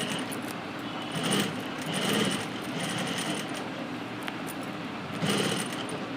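A sewing machine stitches collars onto a blouse back, a steady close mechanical whir that swells and eases in short bursts as the fabric is guided along.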